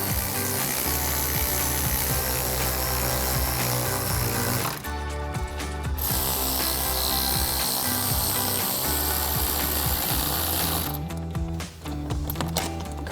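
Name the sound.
ratchet with 11mm socket tightening intake clamps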